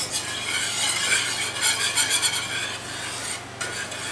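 A whisk stirs milk gravy in a cast iron pan, scraping and rasping steadily against the metal with a soft sizzle underneath, close and continuous with no talking.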